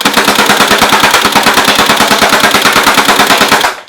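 A Tokyo Marui AA-12 airsoft shotgun fed from a drum magazine fires on full auto, a loud, fast, evenly spaced burst of mechanical shots that runs for several seconds before stopping abruptly.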